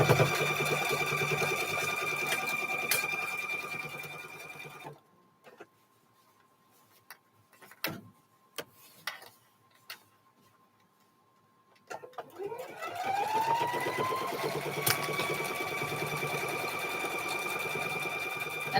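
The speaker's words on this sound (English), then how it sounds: "Just a 1/4 inch seam that I'm stitching" A home sewing machine stitches a quarter-inch quilt seam in steady, loud whirring runs at the start and end, with a quiet pause of small clicks and handling noises between them.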